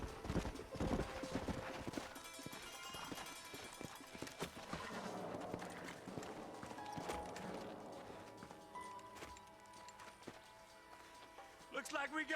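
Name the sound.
horses' hooves clip-clopping, from video game Red Dead Redemption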